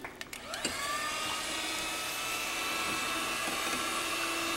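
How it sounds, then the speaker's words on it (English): A loud, steady electric hand mixer motor whirs continuously after a brief rattling start, a close mechanical drone running without pause while beating egg whites. "we're going to beat those egg whites until they're stiff"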